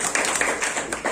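An audience at a Trichur team celebration session claps in a brief, fairly faint patter of hands, a few sharper claps standing out over the thin applause.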